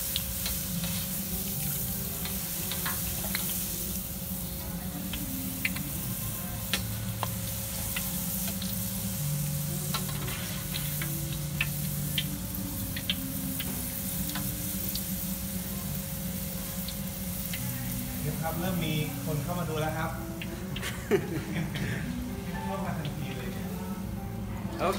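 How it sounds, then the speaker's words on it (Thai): Noodles deep-frying in hot oil, a continuous soft sizzle with faint crackles and occasional stirring clatter close by. "ทอดเส้นก่อน ครับผมทอดเส้นก่อนนะครับ"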